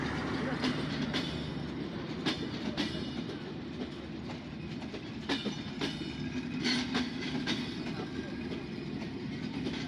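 A packed passenger train rolls past with people riding on its roof. Its steady rumble and rhythmic clickety-clack of wheels continue throughout, with faint voices in the background.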